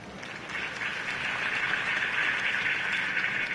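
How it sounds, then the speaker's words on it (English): Crowd applause at a political campaign rally in the Telltale Batman video game, a steady dense clapping roar that swells in and holds at moderate loudness, without speech. "If only Mr. Wayne, my campaign's largest backer, could have heard that applause"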